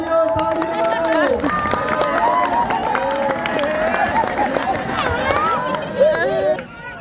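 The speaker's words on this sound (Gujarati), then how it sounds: "તાળીઓ તાળીઓ તાળીઓ" Crowd at an outdoor Ramayan stage play cheers and claps with a dense, steady roar of applause and voices that runs throughout, swelling near the end before easing off.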